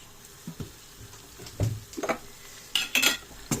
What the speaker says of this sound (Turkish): Azıcık bunu hafif şöyle bir kavuracağım.